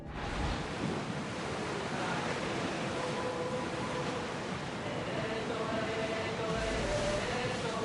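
A sailing ship cuts through ocean waves in Assassin's Creed Odyssey, a steady wash of surf and wind rushing continuously at low volume while voices call out orders.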